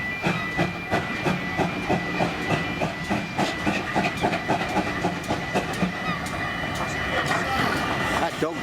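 A steam tank engine pulls out at Minehead on the West Somerset Railway, rhythmic chuffing beats and clanking wheels close by with a steady hiss, while people talk over it.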